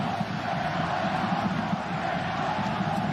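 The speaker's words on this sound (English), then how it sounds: "But the Guadalajara fans respond by cheering even louder." Guadalajara fans in a football stadium roar with a dense, continuous cheer from a large crowd, loud and steady throughout.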